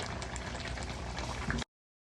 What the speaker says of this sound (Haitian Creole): So mettez banane là pour le bouillir.